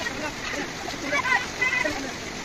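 Cold river water near Nashik splashes and sloshes as someone washes their hands and face, with irregular close splashes over a constant rushing flow.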